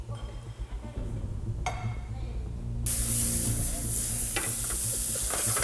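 Chicken browns in a hot pan with a loud, continuous sizzle, and the frying grows brighter and more intense as it goes on, with occasional clinks from a utensil.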